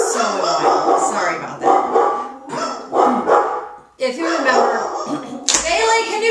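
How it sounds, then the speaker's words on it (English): Several dogs bark repeatedly in loud, close bursts throughout, overlapping a person talking continuously. "can you deal with the dogs?"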